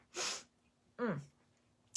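A single sharp sneeze: a breathy intake burst followed by a loud explosive release, then quiet.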